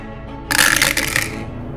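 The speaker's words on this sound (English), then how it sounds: "When rolling defense dice against a normal attack, adds 4 dice" Heroscape defense dice are rolled on a tabletop, a short burst of close clattering and rattling that lasts about a second before settling.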